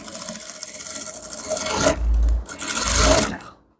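A sewing machine runs loud and close while stitching a flap, a buzzing mechanical whir rising in bursts with brief pauses and a heavy low thrum, then stopping abruptly.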